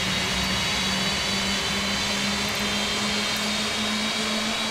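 Virgin Atlantic Boeing 747-8 being pushed back by a tug at Heathrow in a flight simulator game: a constant, loud jet engine drone with a steady hum underneath, unbroken for the whole stretch.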